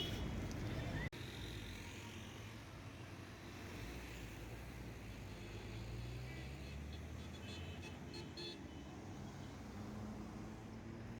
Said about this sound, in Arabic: هاي زحمة الشارع هون.